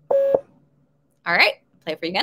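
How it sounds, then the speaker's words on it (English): A single short electronic beep, one Morse code dot, sounds up close, and then a person speaks briefly. "this little beep, and it sounds like this."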